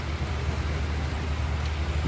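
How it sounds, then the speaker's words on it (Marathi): Heavy monsoon rain pours at Khed railway station during a Mumbai to Ratnagiri train journey, a dense steady roar of rainfall with a low rumble underneath that stays loud and constant throughout. "पाऊस बघ इथे फुल जोरामध्ये पाऊस चालला आहे"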